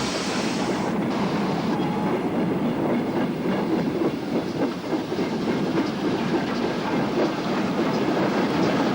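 A ballast train runs along a British railway during post-war track reconstruction, with a steady, loud rumble and a continuous clickety-clack of wheels over rail joints throughout.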